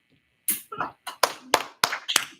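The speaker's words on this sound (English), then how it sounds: "Give him a round of applause" A few people clapping after a live rock recital performance, six or seven distinct, sparse claps spaced unevenly, close and sharp after a moment of silence.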